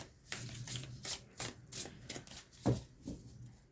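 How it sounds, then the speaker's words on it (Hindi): Tarot cards pulled from a deck and shuffled, a series of close, crisp papery flicks and riffles repeating irregularly, with a sharper snap near the end and no talk over them. "let's pull out more cards for you"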